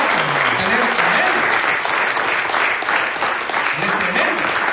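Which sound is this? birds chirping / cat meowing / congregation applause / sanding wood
congregation applause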